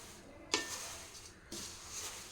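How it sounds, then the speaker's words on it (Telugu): Flattened rice roasts in a hot kadai while being stirred, two scraping strokes about a second apart over a soft, dry rustling sizzle, fairly faint and without talk. "హీట్ చేసుకున్న తర్వాత అటుకులు వేసుకున్నామంటే తొందరగా రోస్ట్ అవుతాయి కలుపుతూనే ఉండాలి"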